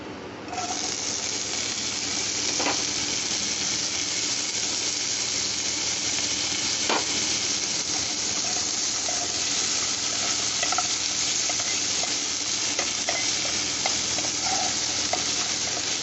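Potatoes go into a hot pan where mutton liver is cooking, setting off a loud steady sizzle that runs unbroken throughout, with occasional clinks and scrapes from stirring.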